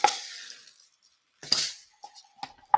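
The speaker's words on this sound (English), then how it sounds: "I'm going to pour the beads in this little funnel thing." Small beads are poured into a little funnel-like cup during assembly of French beaded marigolds, giving a bright clinking trickle at the start, then a short burst and a few scattered glassy clicks.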